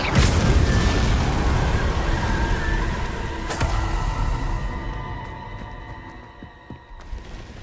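A Confringo fire spell in the Hogwarts Legacy video game bursts with a loud, booming explosion, followed by a sharp crack near the middle and a rumbling, fading tail with smaller pops, with no talking.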